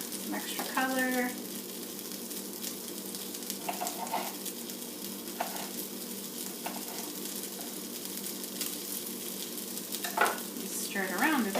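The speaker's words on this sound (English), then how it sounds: "Stir it around a bit so nothing burns." Vegetables fry in a pan for a salad, with a steady sizzle running throughout and intermittent scraping stir strokes, clearest near the start and again toward the end; faint voice-like sounds appear briefly.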